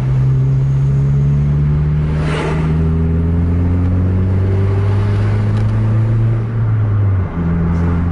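A PSMS Medan intercity bus on a highway in Aceh drones loudly with a deep, sustained engine rumble that shifts pitch as it revs and changes gear, heard alone without talk.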